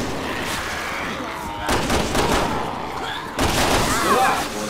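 Rapid gunfire bursts in the Resident Evil 6 video game, loud and dense, coming in two volleys separated by a brief gap, with talk running underneath.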